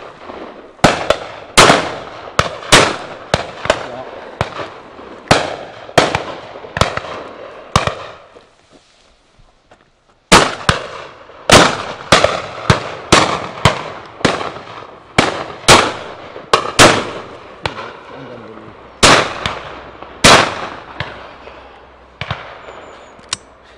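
Shotgun shots at high driven pheasants on a Scottish estate, a long series of sharp, loud reports, often in quick doubles, spaced through the clip with a short lull in the middle, no talk.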